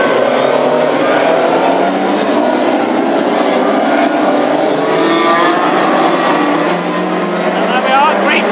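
Classic hot rod race cars, including a Vauxhall Viva, rev their engines on a big stadium oval before a heat, a steady loud roar of several motors with a commentator talking over it.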